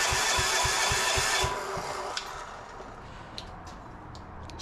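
A repowered Gravely C10A tractor with a diesel engine runs with a low, steady throbbing pulse that softens partway through and settles into a quieter idle, with a few light knocks on top.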